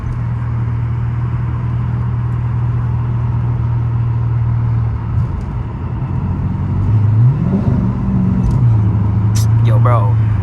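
A straight-piped Dodge Charger R/T heard from the driver's seat: a loud, steady low exhaust drone, then a sharp rev that swells and falls back before settling into the rumble again.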